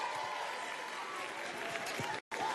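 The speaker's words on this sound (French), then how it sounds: "Merci de l'applaudir." A studio audience at a televised singing competition semi-final gives steady, dense applause for a pop singer, a faint, continuous wash of clapping that cuts out briefly near the end.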